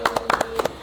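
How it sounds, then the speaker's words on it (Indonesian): A short patter of applause for a futsal team on a podcast set: a few people clapping in uneven quick bursts, close by and fairly light, with no voices. "tepuk tangan dulu dong untuk tim mereka"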